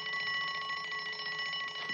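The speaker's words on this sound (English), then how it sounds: "This is my purse with the built-in burglar alarm." A purse with a built-in burglar alarm rings with a steady, shrill electronic trill, loud and unbroken from start to finish with no voices over it.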